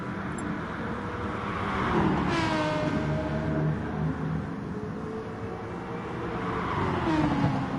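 A Jaguar race car engine in the Gran Turismo video game, an FIA race, revs and whines through gear changes, rising and falling pitch at moderate level, with a passing surge in the middle.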